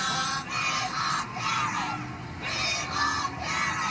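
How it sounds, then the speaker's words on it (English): A crowd of die-hard supporters gathered outside a courthouse chants and cheers in rhythmic rising and falling waves of many voices, loud and continuous. "Die-hard supporters chanted, "Karen Read is free.""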